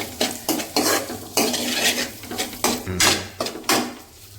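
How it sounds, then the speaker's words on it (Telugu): Lentils being stirred in a cooking pan, a spoon scraping and clattering in repeated close strokes about every half second, with a faint sizzle underneath and no talk. "పప్పు వేసుకొని మళ్ళీ అంతా కలపాలి."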